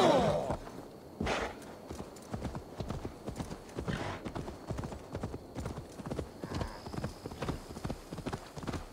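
Steady clip-clop of horse hooves from Assassin's Creed Valhalla runs throughout in an even galloping rhythm, with a brief whinny early on and little talk.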